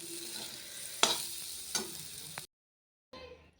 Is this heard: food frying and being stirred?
yes